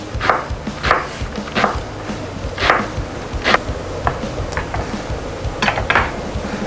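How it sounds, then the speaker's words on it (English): Half a white onion is chopped with a knife on a cutting board, giving about a dozen sharp, irregular knocks that sound close and fairly loud, with no talking. "I'm going to chop half a white onion."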